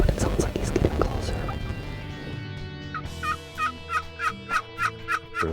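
A wild turkey gobbles repeatedly from somewhere near, a rhythmic run of bursts standing out after a stretch of softer rustling and faint whispering.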